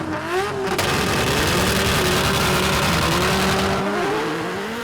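A Mitsubishi Lancer Evolution 6 launches off the drag strip start line, the engine screaming loud and close as it climbs through rising revs with audible gear changes, tire noise underneath, no talk.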